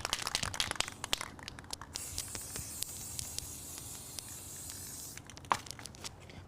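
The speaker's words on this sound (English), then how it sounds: "I'm gonna give it a quick little spray" An aerosol can sprays a light coat of paint onto Christmas waterslide decor outdoors, a steady hiss lasting about three seconds, close and clear, with crinkling and handling clicks before and after.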